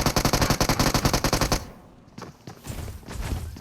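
Rapid automatic gunfire in the BGMI mobile battle royale game, a loud burst of evenly spaced shots for about a second and a half, followed by quieter scattered in-game sounds.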